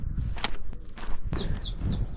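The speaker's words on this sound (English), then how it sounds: "Oh, that's a loud bird." A loud bird call of several quick, repeated chirps rings out close by over steady outdoor rustle and background noise.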